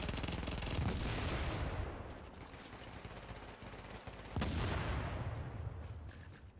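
Automatic gunfire in The Division's Dark Zone, loud sustained rattling bursts that ease briefly and then surge again, close and continuous throughout.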